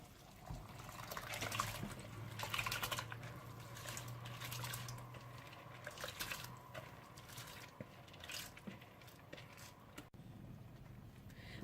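Hot cooking water poured off part-boiled rice through a strainer, a soft gushing and trickling flow that is strongest early and then thins to drips, faint and close.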